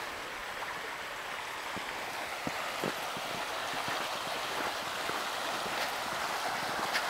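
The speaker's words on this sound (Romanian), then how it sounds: "Se poate auzi susurul izvorului minunat" Soft, steady murmur of a mountain spring stream, a faint continuous trickle with occasional small splashes and clicks.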